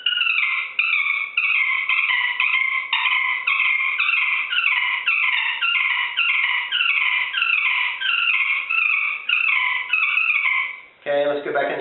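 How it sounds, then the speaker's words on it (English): A fighting purr on a friction turkey call, drawn with heavier pressure on the striker, runs as a long, unbroken, aggressive raspy rattle of rapid chirps, loud and close, ending in a brief low scrape. "The fighting purr is just a little more pressure on your striker."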